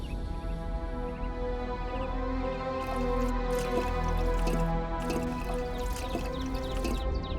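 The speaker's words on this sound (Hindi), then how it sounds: "आ गया पानी" Water dripping and spattering in repeated small drops over a steady tonal hum, with a denser patch of splashy drips in the second half, moderately loud and close.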